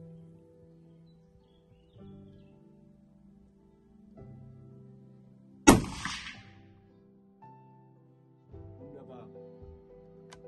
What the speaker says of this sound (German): Jetzt mache ich noch einen zweiten Schuss, um einfach zu kontrollieren, war das jetzt Zufall?